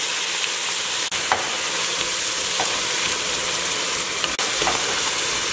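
Chopped tomato goes into garlic already frying in a pan. A loud, dense sizzle hisses continuously, with a couple of brief clicks and dips, and nobody speaks.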